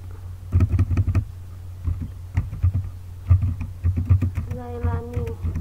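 Typing on a computer keyboard comes in quick clustered bursts of soft clicks with brief pauses between them, close by, as an author's name is entered. A short voiced sound is heard near the end.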